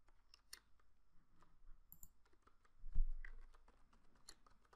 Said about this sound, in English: So I'm going to type the content for my site.